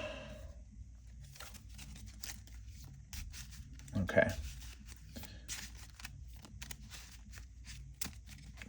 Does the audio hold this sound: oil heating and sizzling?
no